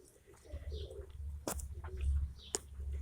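Pigeons coo softly in low, throaty murmurs close by, with a couple of sharp knocks or wing flaps in between.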